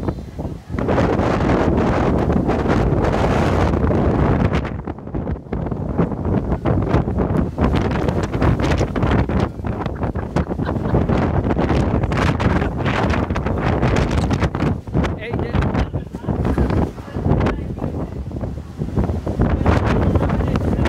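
Strong gusting wind of a dust storm laden with sand buffets the microphone in loud, rough bursts, roaring continuously with brief lulls.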